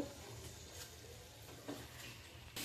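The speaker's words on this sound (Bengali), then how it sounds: "চিকেনটা ভাজা হচ্ছে এবং চিকেনের ভিতরে ভালো করে সিদ্ধ হচ্ছে" Chicken roasting in a pan with its own gravy gives off a faint, steady sizzle and crackle, with a few soft stirring scrapes along the way.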